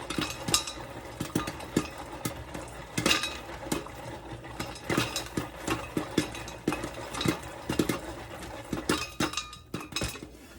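Popcorn kernels pop in a pot on a stovetop, made the old-fashioned way: dense, irregular sharp pops and ticks, close and steady for ten seconds over a low background hum, with no voices.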